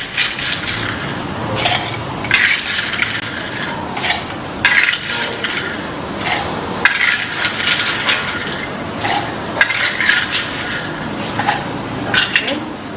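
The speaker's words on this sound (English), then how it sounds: "We are going to start by putting our ice cubes in a glass." Ice cubes are dropped and clinked into a glass while a sunrise mocktail is made, giving repeated bright clattering knocks at an irregular rhythm, close and fairly loud over faint room noise.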